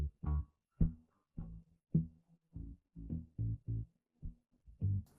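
Drum track isolated from a song by stem separation, with discrete thumping hits in an uneven pattern, about a dozen low punchy strikes with short decays, heard alone and fairly quiet.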